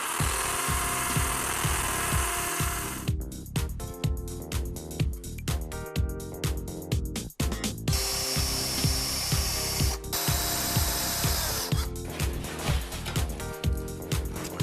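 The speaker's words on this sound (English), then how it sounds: "I'm drilling a hole here that will receive this location stud" A power drill bores a hole for a location stud in a Georgian dining room fireplace hearth, running in loud, close bursts of whining spin with brief stops and restarts, no talking.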